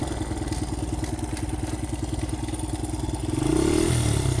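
A new dirt bike engine runs at a steady rapid idle-like putter with a clattering edge, then revs up briefly near the end, heard close and alone.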